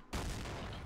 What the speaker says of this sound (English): I'm gonna throw my flashbang out and then I'm gonna throw a grenade.